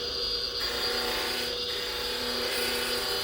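A skew chisel cuts wood spinning on a lathe, making a continuous rough, hissing scrape over the lathe's steady whir. It is fairly loud and close, with small shifts in texture as the tool bites.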